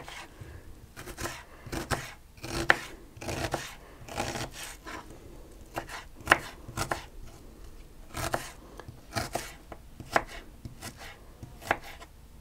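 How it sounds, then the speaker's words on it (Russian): A knife chops an onion into small cubes on a cutting board, with crisp bursts of quick cuts repeated at an uneven rhythm over twelve seconds. The chopping is close and clear, with no talking. "Еще лучок. Порежу его мелким кубиком."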